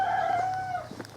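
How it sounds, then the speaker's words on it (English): A cockerel crows in the countryside on a warm walk near a wood, one long drawn-out call that tails off, clear and at mid distance over faint outdoor ambience. "Ah, cockerel."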